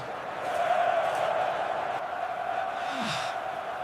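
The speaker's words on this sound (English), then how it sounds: "The roar of the crowd is unbelievable." Large crowd in an ancient Roman gladiator arena, roaring and cheering as a continuous, fairly distant wash of voices, with one brief louder shout rising near the end.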